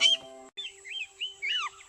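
Red-billed and yellow-billed oxpeckers in Africa give short hissing, rasping calls and thin whistled chirps in quick bursts, close and clear over a steady low hum.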